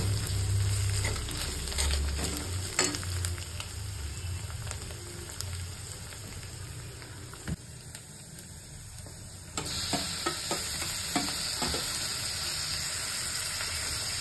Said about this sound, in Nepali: चुवा हाल्नुपर्छ अनि चलाउनु पर्छ।